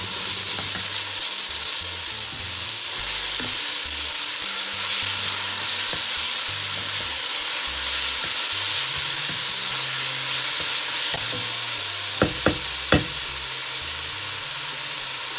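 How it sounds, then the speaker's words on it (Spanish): Diced vegetables, garlic, serrano ham and chorizo frying for a sofrito, a steady close sizzle running throughout with occasional stirring clicks and a few sharp spatula taps near the end. "Mientras que nos están tostando todas las verduras"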